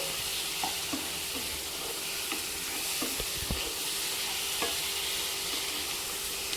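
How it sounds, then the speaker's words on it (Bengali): Chicken pieces fry with onions in a pan under a dense, constant sizzle, while a spoon stirs gently with soft scrapes and occasional clinks, close up and without speech. "চিকেনটা দিয়েও হালকা হালকা হাতে নেড়াচাড়া করে নিতে হবে"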